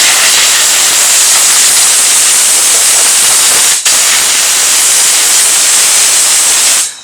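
Compressed air hose blowing hard on sandblasted bare metal of a 1978 El Camino during rust repair, a loud steady hiss running almost without pause, with one brief dip midway before cutting off.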